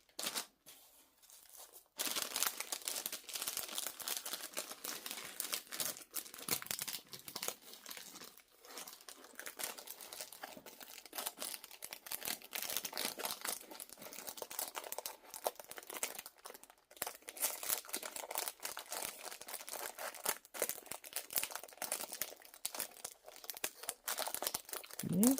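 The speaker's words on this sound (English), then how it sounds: "Let's see if I can get this back in its bag." A plastic bag crinkles and rustles almost continuously for about twenty-five seconds as something is worked back into it, with close, soft crackling and no speech.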